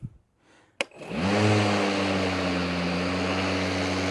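A Milwaukee electric lawn mower starts with a click, then its motor spins up to a steady, close, loud whine and hum that holds at a higher speed.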